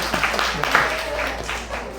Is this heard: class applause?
yes